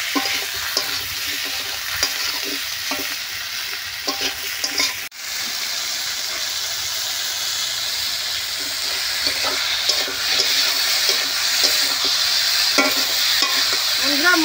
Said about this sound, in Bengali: দিয়ে এইভাবে মশলার সঙ্গে বেশ ভালো করে কষে নেব। এইভাবে ভালো করে কষতে হবে।